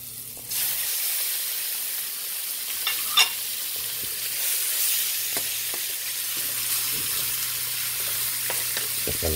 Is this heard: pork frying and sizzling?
yes